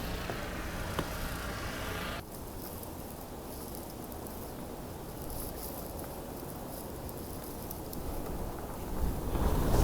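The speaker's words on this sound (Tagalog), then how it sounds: "Wala, ang hangin." Wind blows steadily outdoors during a February 2021 snowstorm in New Jersey, a low continuous rush at moderate level that swells slightly toward the end, with no voices.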